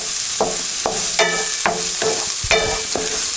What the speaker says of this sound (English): So just keep moving those onions around the pan.